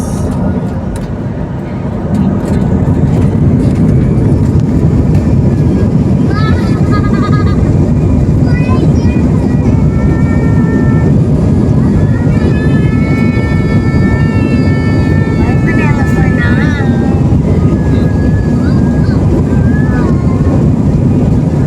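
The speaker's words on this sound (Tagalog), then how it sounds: "Take off na po." A passenger airplane takes off at night, a steady loud engine roar and rushing wind filling the cabin throughout, with faint rising whine tones, and a person speaks briefly over it.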